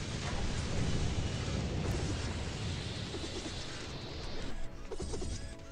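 Lightning strike summoned in the Tower Conquest game, a dense roaring crackle with heavy rumbling, loud and unbroken for several seconds, no voices.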